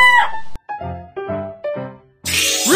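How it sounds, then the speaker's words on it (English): A rooster crows in a children's listening game, several short harmonic calls in a rising-falling pattern, loud and close, ending in a harsh burst. "Rooster."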